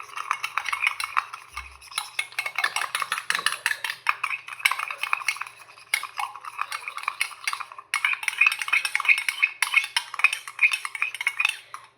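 Food being mixed and stirred in a dish, with continuous scraping and clinking of a utensil against the bowl, steady and close, with no talking.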